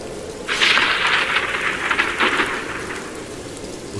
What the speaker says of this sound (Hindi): बारिश भी होने लगी